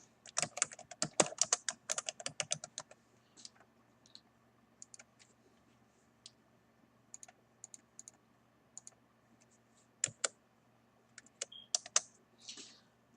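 Someone types on a computer keyboard, close and quiet, with a fast burst of keystrokes at the start and then sparse single clicks and short runs over a faint steady hum, with no talking.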